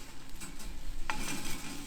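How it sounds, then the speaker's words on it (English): Bacon fries in a Solid Technics pan with a soft, steady sizzle and a brief stir or scrape, quiet and close with no talking. "So, frying off."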